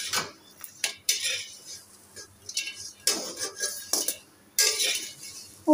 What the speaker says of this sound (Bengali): লাল লাল করে একদম মশমশা করে বড়া ভাজছি।